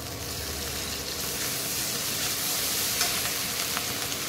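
Onion and garlic paste frying in a pan gives a continuous, moderately quiet sizzling hiss with faint stirring, and no one speaks.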